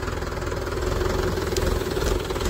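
A tractor engine runs in a peanut field, giving a steady, moderately loud low chugging drone with no pauses.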